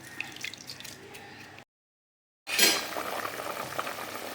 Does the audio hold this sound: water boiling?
yes